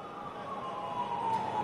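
A distant ambulance siren wails along a busy Beirut street after bombing, a steady tone slowly rising in loudness over low city background noise.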